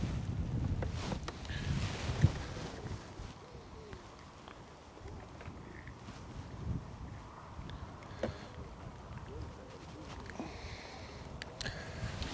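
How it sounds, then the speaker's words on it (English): Strong gusting wind buffets the microphone at a fishing lake, producing continuous low rumbling with occasional sharper thumps and no talk. "Wind's getting up, so it's really strong."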